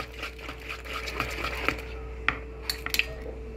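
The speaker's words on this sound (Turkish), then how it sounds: "Devam ediyoruz karıştırmaya." A whisk clinking against a bowl while mixing wheat flour into batter, a soft swishing stir with sharper metallic taps growing more frequent toward the end, close and clear with no talking.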